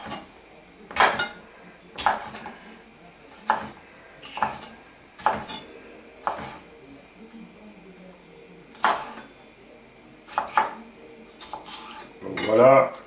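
A knife cuts meat for chili con carne on a board, giving a series of crisp, separate taps and clicks roughly every second, close and clear over a quiet room, with a brief voice near the end.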